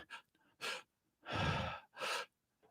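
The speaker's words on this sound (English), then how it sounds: "you exhale very slowly and you control your breath" Close, quiet breathing during a diaphragmatic belly-breathing exercise: four separate breathy bursts, the longest a fuller drawn-out exhale, with short pauses between them.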